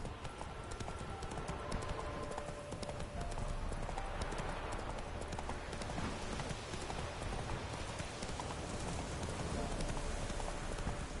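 Horse hooves pound in a steady clip-clop gallop in Witcher 3, loud and continuous throughout, with faint game ambience beneath.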